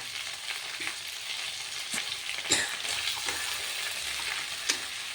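Black-eyed pea curry, made without onion or garlic, sizzling in a pan as it is stirred, with a steady frying hiss broken by scattered scrapes and light taps; no one speaks.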